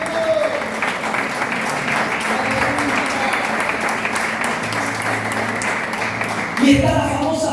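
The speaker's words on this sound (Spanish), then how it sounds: "Aplauda conmigo" A church congregation claps together in steady applause beneath a preacher's voice, with a low sustained tone running through and a brief louder burst near the end.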